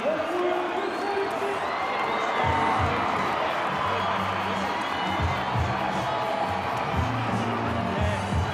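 A stadium crowd at a Penrith Panthers versus Wests Tigers rugby league match roars in a steady, dense wash of cheering, with a commentator talking over it throughout.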